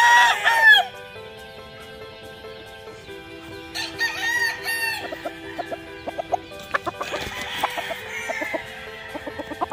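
A yellow-legged hatch rooster crows close by, with a sharp call at the start and further crowing and clucking around it, over a quiet outdoor background with scattered knocks.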